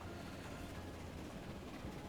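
A passenger train rumbles along in the game Transport Fever 2, a continuous low, broadband rolling roar at even loudness throughout, with no talking.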